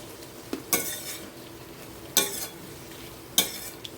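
A spoon scrapes and clanks through an okra and potato curry in a pan, three sharp strokes over a faint low sizzle.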